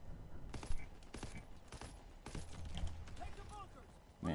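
Rapid bursts of video-game gunfire from a World War II shooter crack out repeatedly, loud and close, with someone talking over the shots throughout.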